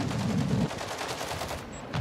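Rapid gunfire in Warzone battle-royale combat: a quick burst of automatic shots rattling out, loud and close, with no talk over it.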